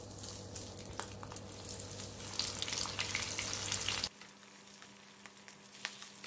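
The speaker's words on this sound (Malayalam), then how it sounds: "ഇനി ഇത് ഫ്രൈ ചെയ്തെടുക്കാം. എണ്ണ നന്നായി ചൂടായിട്ടുണ്ട്." Breadcrumb-coated prawns sizzle loudly in hot oil, a dense steady crackle that drops abruptly to a quieter, lighter bubbling partway through.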